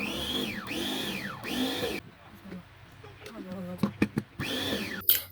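A food processor strains while grinding plantain with flour and a little butter, its motor whining in rising and falling bursts with a gap of rattling knocks between, just before the machine breaks down.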